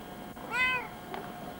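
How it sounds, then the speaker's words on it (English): A cat gives one clear, fairly close meow, followed by a faint, brief second sound, outdoors in the Appalachian Mountains with no talking. "Oh, kitty cat."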